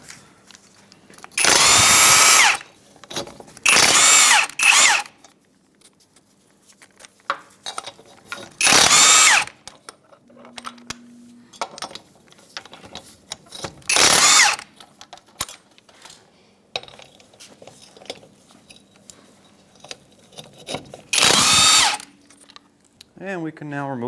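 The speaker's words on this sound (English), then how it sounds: "Our vehicle has locks on every lug stud, so we're just going to remove those with the lock key." On a 1990s Ford F-150, a power tool spins off the wheel lug nut locks in several loud, close bursts of about a second or two each, with quieter clanks and handling noises between them.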